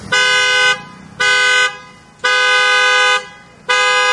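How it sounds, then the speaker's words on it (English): Four loud, close blasts come from an aftermarket Caps Lock car horn with a 100% copper coil motor, each a bright, buzzy tone of varying length with short gaps between. "Now the caps lock horn."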